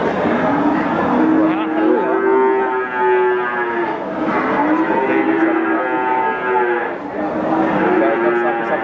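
Several cattle at a cattle market in Wirosari, Grobogan, Central Java, moo repeatedly, long low calls overlapping one another, loud and close, with a few voices murmuring in the background.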